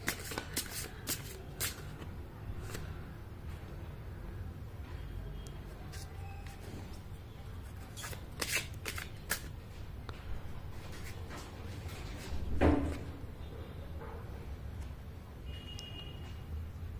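Tarot cards shuffle softly and close by in repeated riffling bursts with quiet gaps between, ending in a slightly louder rustle near the end.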